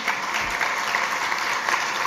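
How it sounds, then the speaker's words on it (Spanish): An audience applauds steadily after a speech at a business luncheon, a dense, even wash of clapping from many hands with no voices over it. "les agradezco el aplauso"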